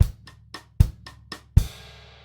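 Bossa-style drum kit bar: light cross-stick clicks and hi-hat ticks over bass drum thumps, ending on a bass drum hit with a ringing crash cymbal that fades out.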